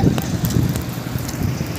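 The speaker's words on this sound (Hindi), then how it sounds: "धूप भी निकल रही और बारिश भी हो रही" Rain falls while the sun shines, a dense, even hiss of rainfall with gusty wind noise on the microphone, loud and continuous throughout.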